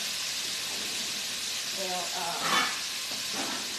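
Homemade nitrate-free sausage patties fry in a pan, giving a continuous close sizzling hiss with a brief louder burst as they are pressed down, while a person talks over it.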